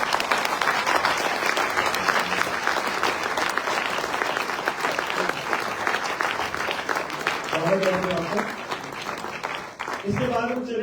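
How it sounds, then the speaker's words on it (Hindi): An audience at a women entrepreneurs' panel discussion in the direct selling industry applauds a speaker, with steady dense clapping throughout and a voice briefly speaking near the end. "आप लोगों की जोरदार तालियों के बीच में"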